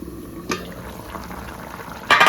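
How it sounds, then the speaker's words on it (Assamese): Pork curry simmers in a covered pot with a soft, steady bubbling hiss, broken by a brief clatter near the start and a louder burst of rattling at the end. "একদম ধুনীয়াকৈ উতলি আছে মজাকৈ উতলি আছে"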